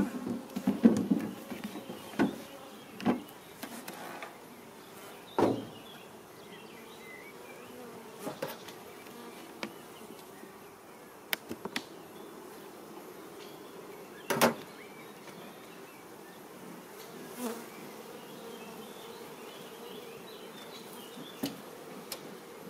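Honeybees in an agitated hive being opened at an apiary hum with a continuous buzzing drone, while scattered clicks and knocks of the hive frames being handled break in close by.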